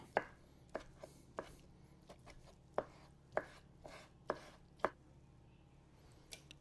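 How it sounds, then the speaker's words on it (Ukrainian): A knife chops mushrooms on a board in about a dozen sharp, irregularly spaced cuts, close and fairly quiet, with no voices. "нам треба порізати грибочки"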